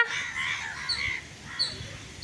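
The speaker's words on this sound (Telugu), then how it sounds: "కాకి" A crow caws a few times, harsh and fairly close, against a quiet background with no talking.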